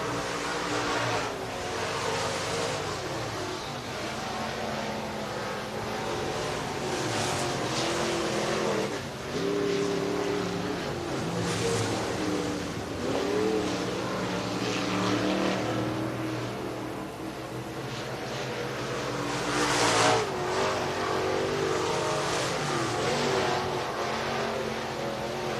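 Race cars running hot lap qualifying at Cherokee Speedway in Gaffney, South Carolina, heard as a sustained engine roar with rising and falling revs as cars pass, loud and continuous with no talk.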